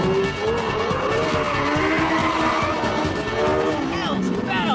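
A hybrid supercar in race mode, its petrol engine backed by electric motors, corners hard with tires squealing over a loud sustained engine roar, and someone speaks excitedly over it.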